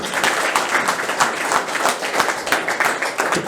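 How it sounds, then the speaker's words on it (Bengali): Applause from a room of students and job-exam aspirants at a coaching session, cheering a mock test topper: dense, steady clapping from many hands, close and continuous for the whole stretch with no talk over it. "হামজাল বাবুর জন্য একটা হাততালি হবে কিন্তু"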